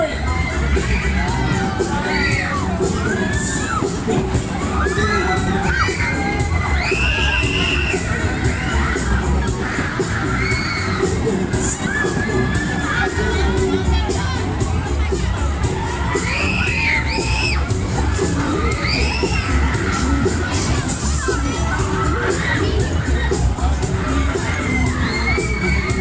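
Riders on a fairground waltzer scream and cheer loudly and without a break over pounding ride music. The crowd's shrieks rise and fall throughout, close and dense.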